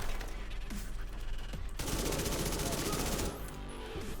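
Rapid automatic fire from the Lady Death submachine gun in The Division 2, a dense, loud burst of shots that ends abruptly with fainter game ambience after.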